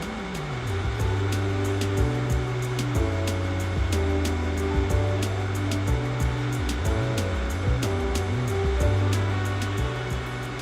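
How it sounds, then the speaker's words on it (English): A Koks Megavac vacuum truck's suction blower runs continuously, a loud, steady close-up roar with a droning tonal hum and no pauses. "Switch on suctioning."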